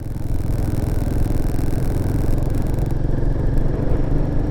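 A Royal Enfield Himalayan 450 adventure motorcycle being ridden on small trails, its engine a loud, steady, throbbing rumble with constant wind noise throughout, close and continuous without pause.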